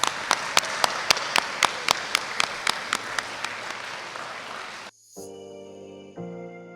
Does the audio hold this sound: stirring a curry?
no